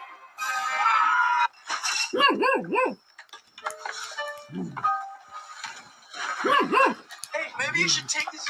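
A dog barks and yips in a few short bursts, mixed in with lively voices talking loudly over and between the barks.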